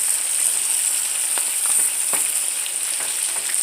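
Snow peas with crushed peppers sizzle loudly and steadily in a hot pan, a close, continuous hiss with a few faint stirring clicks.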